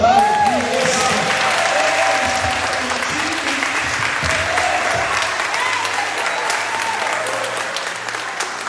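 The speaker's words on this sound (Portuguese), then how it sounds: "Quem pode aplaudir?" Congregation applauding during a Portuguese-language church service, sustained loud clapping throughout with faint voices and cheers mixed in.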